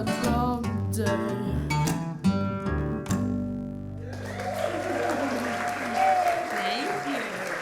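Audience applause for performers at a disability-rights event, breaking out after a song's final sung notes and filling the second half as a steady, moderately loud round of clapping.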